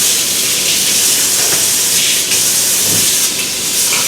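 Tap water runs steadily while hands are rinsed in a restaurant kitchen during Big Mac wrap prep, a constant broad hiss with a few faint splashy shifts, close and alone with no talking.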